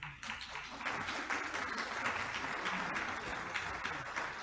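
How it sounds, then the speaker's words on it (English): Audience applause at a history lecture, a fairly quiet, steady patter of many hands clapping that holds for about four seconds. "let us thank you and give you a round of applause"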